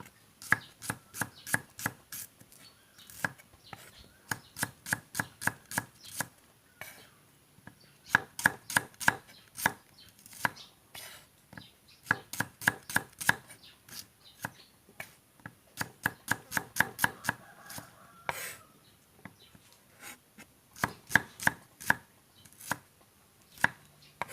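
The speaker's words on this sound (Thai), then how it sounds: "หั่นหอมแดงไว้เลย" Steady knife chopping shallots on a board, quick bursts of sharp taps separated by short pauses, close and clear with no talking.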